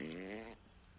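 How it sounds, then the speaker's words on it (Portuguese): A short, buzzy fart sound effect in a narrated children's story. It is a single raspy burst of about half a second that cuts off into quiet. "alguém soltou um pum barulhento"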